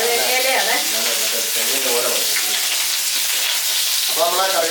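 Mustard seeds and large curry leaves crackle and splutter steadily in hot oil, a loud continuous sizzle with popping, while a voice speaks briefly at the start and again near the end.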